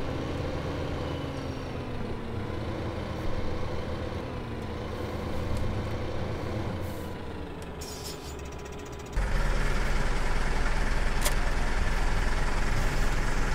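A New Holland tractor engine in Farming Simulator 2015 runs with a continuous drone that shifts in pitch. It then jumps to a louder, rougher roar partway through, and no one speaks.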